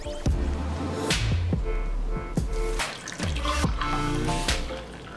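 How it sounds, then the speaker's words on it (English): Brewed V60 pour-over coffee swirled and then poured into a mug, a close trickling stream of liquid broken by a few splashy pauses and drips. "Give the coffee a final swirl and pour it in your favorite mug"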